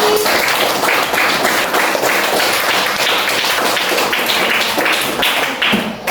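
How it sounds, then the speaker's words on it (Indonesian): Classroom of students clapping for a classmate, a steady, loud burst of many hands applauding close by for about six seconds. "tepuk tangan untuk Jaki."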